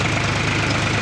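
A tractor engine idles in a steady, continuous low chug with an even pulsing rhythm, close by and alone for about a second.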